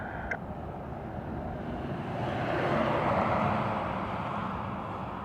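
A heavy airliner on the runway at Dublin Airport spools up to full takeoff power, its engine roar swelling to a broad, loud peak in the middle before easing slightly as it moves off.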